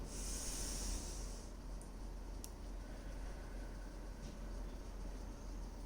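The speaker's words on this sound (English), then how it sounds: "Try and expand your breathing out a little more than you're breathing in." A person breathes out fully during a breathing exercise: one long, airy, hissing exhale, fairly close and strongest in the first second and a half, then fading into a quiet room with faint background noise.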